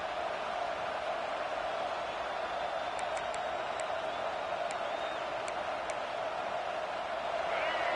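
Loud, steady crowd roar fills a football stadium during a Tennessee game on third down, a dense continuous wash of noise that swells slightly toward the end, with a few faint whistles or shouts poking through.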